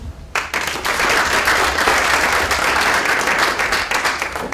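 After a short pause, an audience in a lecture hall breaks into sustained applause to welcome a guest speaker, dense steady clapping that holds for about four seconds.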